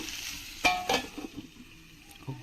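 Fried rice ingredients with tomato cooking in a pan over a low flame, a quiet close sizzle broken by a couple of sharp stirring scrapes early on and a soft clink at the end.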